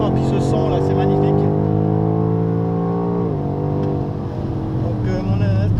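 A BMW X6M's engine roars from onboard on the Dijon racing circuit, a loud sustained drone that holds high, drops with a gear change, then builds again.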